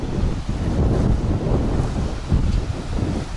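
Sea surf on the beach beside the Asia Pattaya hotel in Pattaya, Thailand: a steady, dense wash of waves blended with heavy wind buffeting the microphone, with no voices.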